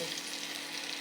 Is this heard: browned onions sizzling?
yes